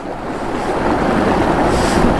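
Cold, fresh mountain stream water rushes steadily near Khardung La pass, a broad continuous wash of flowing water heard up close with some wind, while hands are rinsed in it.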